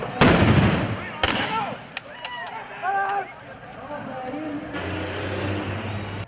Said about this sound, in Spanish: La PNC lanzó de nuevo bombas lacrimógenas para disuadir la protesta.